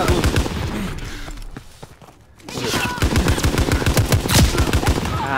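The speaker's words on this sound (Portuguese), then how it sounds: "o tiro pode ser demorado nessa classe, mas olha, causa um dano gostoso" Rapid automatic gunfire from a World War II weapon in Call of Duty: WWII multiplayer, loud continuous bursts with a short lull midway before the firing resumes in a dense rattling stream.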